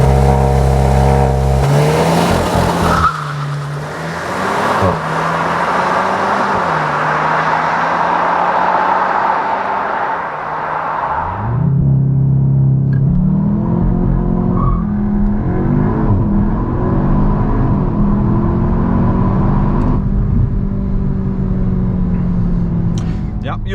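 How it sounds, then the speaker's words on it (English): A CUPRA Leon 300, front-wheel drive, sprints from 0 to 100 km/h on a country road: a loud, close engine rev climbs, drops briefly at a gear change, then climbs again through further upshifts. "Let's now see how fast the CUPRA goes 0 to 100 on the country road."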